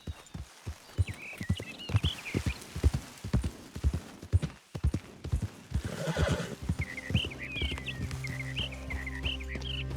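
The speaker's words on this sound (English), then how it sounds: "Check out my horsey." Horse hooves clip-clop at a walking pace in Red Dead Redemption 2, a steady rhythmic clopping with two distinct whinnies breaking through and faint birdsong in the background.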